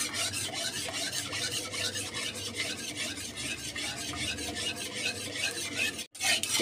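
A ladle stirring a thickening jelly mixture in a pot, a continuous rhythmic rasping scrape repeated in quick even strokes, close and steady, with a brief pause before it resumes.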